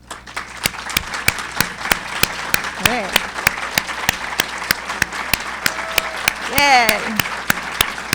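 An audience at a university graduate research talk competition finals applauds steadily, with sharp individual claps standing out over a continuous crowd wash and a few cheering voices joining near the end.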